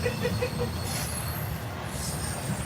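A passing freight train with mid-train DPU locomotives rumbles by up close, its wheels squealing in high steady tones over a heavy, continuous roar.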